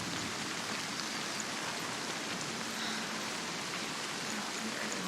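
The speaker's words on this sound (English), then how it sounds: "That rain sounds so nice." Steady rain pours down evenly in the video game Hellblade: Senua's Sacrifice VR Edition, a dense continuous hiss of drops on surfaces with no voices, close and constant throughout.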